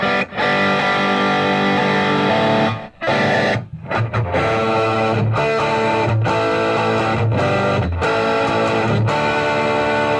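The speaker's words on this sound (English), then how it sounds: "I can put distortion on." Heavily distorted chords from a Fretlight FG-400/500 electric guitar ring out loud and full, with a few brief pauses between strums and no voices.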